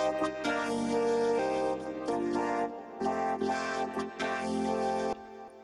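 A vocoder effect is applied to a sung vocal line, giving dense, harmonic-rich robotic tones in sustained phrases that stop and restart several times, with no separate talking voice.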